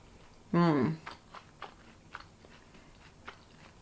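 Someone bites into a crunchy frozen keto coconut bar, then chews with soft, irregular crunches close up. A brief voiced sound comes just before the bite.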